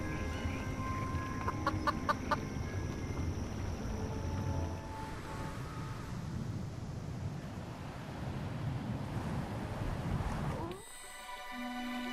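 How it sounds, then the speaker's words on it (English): Sparse clucks from a few hens in a ramshackle coop in a video game, over a steady ambient bed, with a brief burst of bright tones near the start and an abrupt change in texture near the end. "a ramshackle chicken coop with infrequent clucks emanating from within"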